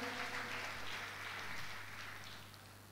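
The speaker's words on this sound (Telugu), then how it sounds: "చప్పట్లు కొట్టి దేవుణ్ణి స్తుతిద్దామా?" A church congregation claps together in praise of God, a dense, continuous burst of applause that holds steady and then slowly fades, heard from a moderate distance in a reverberant room.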